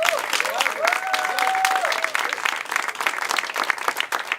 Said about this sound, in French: je demande à toutes celles et tous ceux qui sont ici présents de t'applaudir à tout rompre